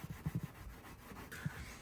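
A gray pad wet-sanding a car headlamp lens on a Mercedes SL500, with soft rhythmic rubbing strokes, a quick cluster early and another near the end, close and faint.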